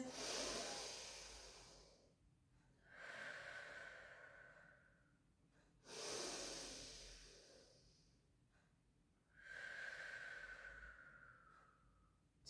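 Slow, deep breaths drawn in and let out during a gentle pilates and barre stretch, four long airy inhales and exhales in a steady rhythm, close and fairly quiet, with no talking.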